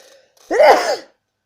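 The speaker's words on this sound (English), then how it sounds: "I need to sneeze." A single sharp sneeze, close and loud, lasting about half a second, preceded by a faint breath and followed by silence.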